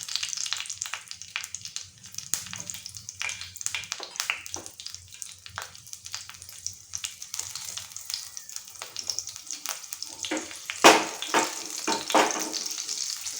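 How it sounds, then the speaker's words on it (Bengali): Nigella seeds and green chillies sizzle in hot oil for a Bengali ridge gourd, potato and lentil-fritter curry, giving a steady crackling fry with scattered pops that flares louder near the end. "কালো জিরেটা একটু ফোড়ন হিসেবে দেব। আর দুটো কাঁচা লঙ্কাও দিয়ে দেব।"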